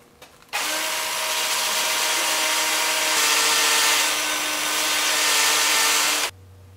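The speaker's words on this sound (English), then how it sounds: "Then I'll just take this over and sand it up on the workbench." Power sander working a spalted maple fruit bowl on a workbench, a loud, steady whirring grind that starts abruptly, runs continuously for several seconds with slight shifts in pitch, then cuts off.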